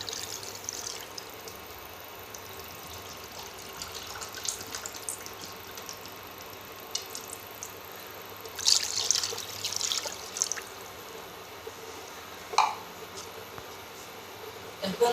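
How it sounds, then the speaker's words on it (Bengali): Two cups of water poured into a wok set on a stove while cooking jute greens, a soft, faint trickle and splash at close range with a few brighter splashes partway through. "প্রথমে চুলে একটা কড়াই বসিয়ে দিয়েছি এবং 2 কাপ পরিমাণ পানি দিয়ে দিচ্ছি"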